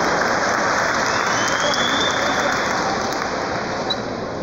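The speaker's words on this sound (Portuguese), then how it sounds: "pode aplaudir" Convention audience applauding, a dense steady wash of many hands clapping at once, loud and even throughout with a faint tone running underneath.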